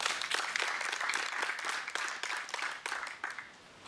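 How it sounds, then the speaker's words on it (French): A crowd at a dowry ceremony breaks into brisk applause, dense and near at first, then thinning and fading toward the end. "Ok, applaudissez."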